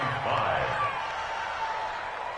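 A stadium crowd in an American football video game cheers with a diffuse, steady roar that swells briefly and then eases off slightly.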